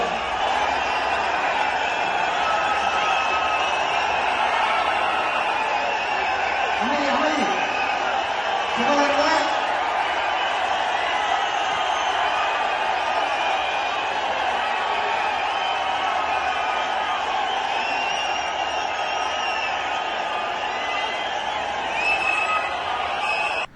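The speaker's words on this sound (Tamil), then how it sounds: "அண்ணாமலை அவர்கள் பேச வரும்போது என்ன மாதிரியான ஒரு ஆரவாரம் இருக்குன்னு ஒரு வீடியோ இருக்குது" A large political rally crowd cheering as Annamalai comes to speak, a dense continuous roar of voices heard from a distance and held at a steady level throughout.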